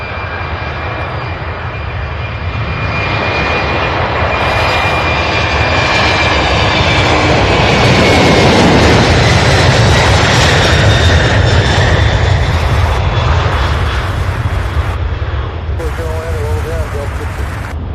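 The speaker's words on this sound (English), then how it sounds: "Yeah, the sound coming from these aircraft is going to be loud." Aircraft at SDF airport roar loudly on takeoff, a sustained broadband jet-engine rumble with a whining tone that swells toward the middle and holds strong to the end, with faint talk underneath.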